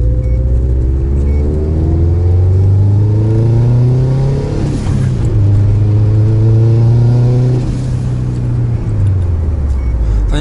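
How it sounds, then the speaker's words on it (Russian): A Toyota Land Cruiser's heavy engine roars close by, pitch climbing through several gear changes, then fading slightly as it pulls away. "Крузак уходит."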